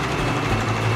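A sewing machine runs a steady, continuous loose gathering stitch along fabric for a beginner cosplay project, the line sewn about 10 to 20 mm from the edge, its motor hum close and unbroken.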